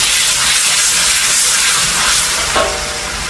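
Green-cap seasoning sauce and oyster sauce stir-fried in a hot pan for rad na: a loud, steady, close hissing sizzle that eases slightly toward the end.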